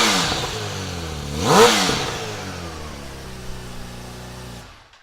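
A 2018 Kawasaki Ninja H2 fitted with an Akrapovic exhaust fires up and gives one sharp, loud rev that peaks and falls back to a steady, rumbling idle before cutting off.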